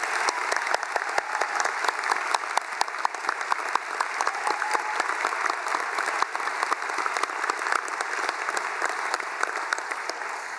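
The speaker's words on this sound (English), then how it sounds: "And I think they deserve another round of applause." An audience at a university graduation ceremony claps for graduating doctors, a dense, sustained round of applause that stays even and loud throughout, with no voices above it.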